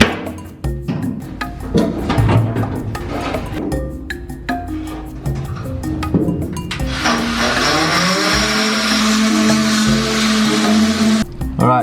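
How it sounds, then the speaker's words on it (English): A die grinder whines against the overhang of a rudder fitting, a sustained high-pitched grinding that steadies in the second half after some tapping and handling knocks. "So I'm just going to grind a bit of the overhang off using a die grinder."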